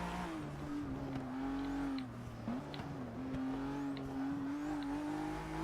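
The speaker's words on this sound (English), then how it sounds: "Really emphasises the sound of that twin turbo V6" A twin-turbo V6 in a Ford GT revs and accelerates, its tone rising and holding, dipping briefly mid-pass, then pulling again. It sounds close and steady with no speech.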